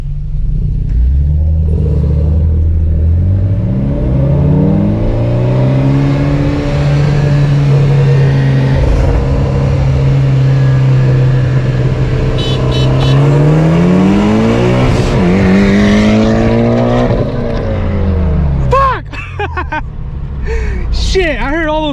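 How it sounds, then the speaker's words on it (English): Infiniti G37s and Mitsubishi Evo X racing side by side. Engine revs climb and fall through repeated gear changes, with some rough grinding shifts, heard loud from inside the car. A voice and some sharp noises come in near the end. "I heard all those gears grinding"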